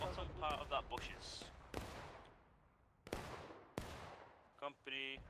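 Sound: musket gunfire in the War of Rights video game

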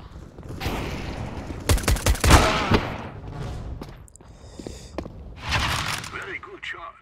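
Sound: gunfire in video game CS:GO

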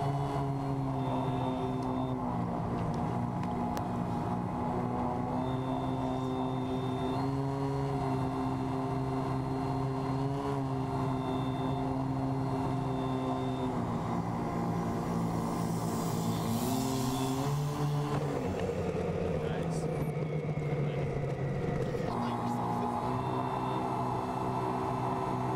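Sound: RC model airplane landing

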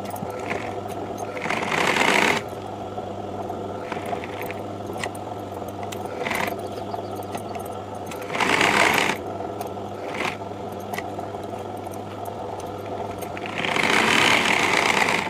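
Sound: sewing machine stitching blouse lining

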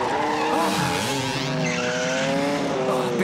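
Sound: cartoon race car engines revving and tires squealing

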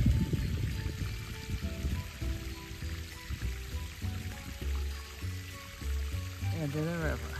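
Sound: geyser water flowing down toward the river

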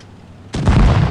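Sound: tank cannon firing in World of Tanks Blitz video game

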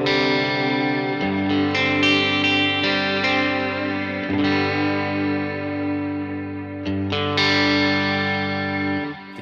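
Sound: big reverb preset on Fender Tone Master Pro guitar processor

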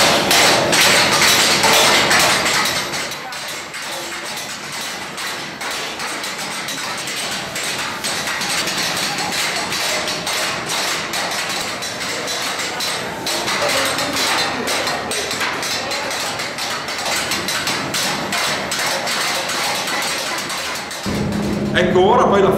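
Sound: workers hand-hammering raw cymbals at Istanbul Agop

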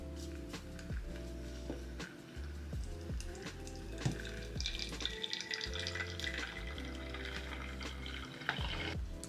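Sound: water pouring while making drip coffee

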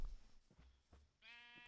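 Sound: sheep bleating in Minecraft video game

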